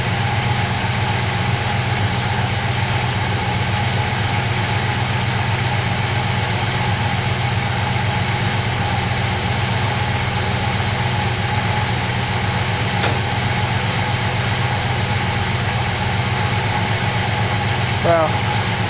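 A 1967 Oldsmobile Delmont 88 V8 idles steadily after a cold start, a loud, even low rumble that runs unbroken throughout with no other sounds on top.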